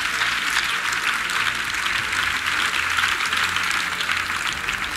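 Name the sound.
church congregation applause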